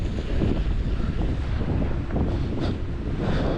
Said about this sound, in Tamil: தண்ணி ரொம்ப காற்று பயங்கரமாக அடிக்குதுங்க